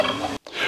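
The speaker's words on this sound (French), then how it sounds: "Vous l'avez reconnu, c'est la dinde." A turkey gobbles in a brief, loud burst, a rapid warbling call broken by a short gap before it resumes.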